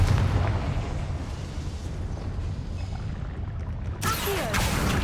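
A Confringo blasting spell explodes in the Hogwarts Legacy video game, with a dense rumbling blast that carries on for several seconds, then a sharper burst near the end, loud and close.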